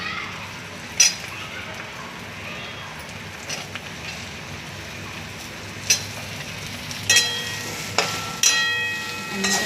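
Ridge gourd pieces stir-fry with turmeric in a hot pan, giving a steady soft sizzle and crackle with occasional sharper clicks and scrapes of a spoon against the pan.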